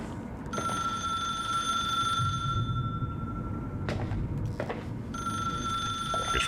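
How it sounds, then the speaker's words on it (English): A telephone rings in the video game The Suicide of Rachel Foster, two long trilling bursts separated by a short pause, clear over a low ambient hum. "I guess we'll go answer that, because I hate phones ringing."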